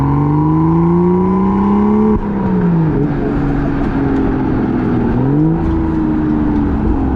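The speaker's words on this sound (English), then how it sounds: "So gonna give it beans one more time on second gear." A 2016 BMW M2 accelerates hard in second gear, its engine note climbing loudly and steadily, then dipping briefly and rising again as revs build, close and in-cabin.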